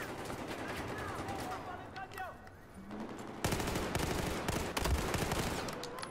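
Automatic MX4 submachine gun of the engineer class firing in a first-person shooter game, rapid bursts of shots in quick succession, with someone talking over the gunfire.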